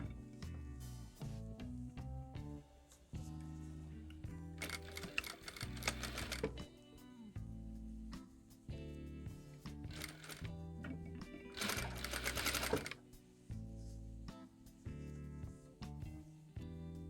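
Sewing machine stitching a seam on a toy bunny from neck through the head, running in repeated rhythmic bursts of rapid needle clatter with brief pauses and handling noises between runs.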